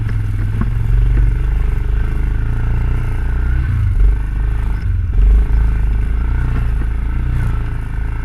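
An ATV engine runs steadily and loud on a rough forest trail near Panuke Lake, with a constant low drone, occasional clatter and scraping from the bumpy ground throughout.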